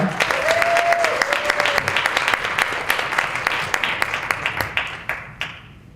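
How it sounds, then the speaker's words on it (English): An audience applauds a speaker steadily, dozens of hands clapping in a dense patter that thins and fades out toward the end. "Let's hear it one more time, Miss Jodi Hinkle."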